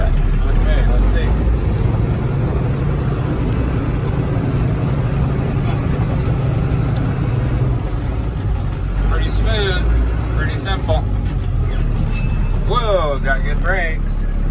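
A 2004 Freightliner two-axle cab and chassis truck drives in gear, a steady low diesel engine drone with road rumble throughout, while someone talks over it.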